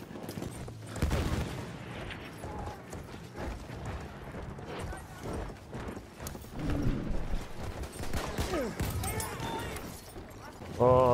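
In the Battlefield video game, hooves clip-clop steadily as a horse gallops at moderate volume, mixed with occasional battle noise and a player's voice talking over it.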